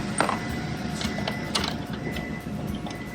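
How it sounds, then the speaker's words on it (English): Ratchet or wrench working a half-inch bolt during assembly of a Tilther Pro tiller, giving scattered light mechanical clicks and metallic ticks close by over steady background noise. "It can be a ratchet, it can be a wrench."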